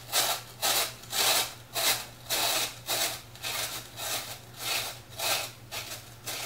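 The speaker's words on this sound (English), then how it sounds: "I'm going to drill about 1/2 inch deep." A spade bit grinds about half an inch into floral foam in a steady series of rough, rasping bursts, about a dozen pulses with brief pauses, close and moderately loud over a low hum.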